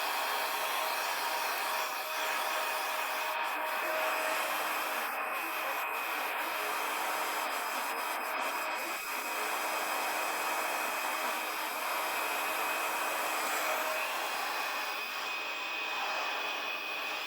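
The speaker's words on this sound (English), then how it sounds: "raise the hairdryer a little higher so that our airflow does not spoil all our veins, which we tried to make" A hair dryer held over alcohol ink under epoxy resin blows a steady, close whooshing drone that holds unchanged for the whole stretch, with no voices.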